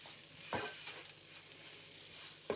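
Whole spices toasting in oil in a pan on a plug-in electric hob give a steady close hiss of sizzling, broken by a few sharp scrapes of a spoon stirring them around.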